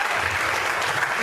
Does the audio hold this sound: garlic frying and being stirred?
no